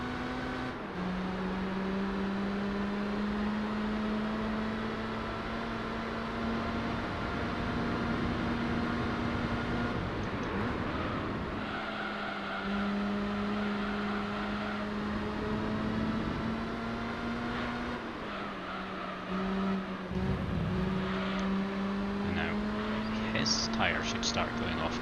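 The Suzuki Escudo Pikes Peak race car in Gran Turismo 3 holds a steady engine drone whose pitch rises and drops through gear changes, under continuous commentary.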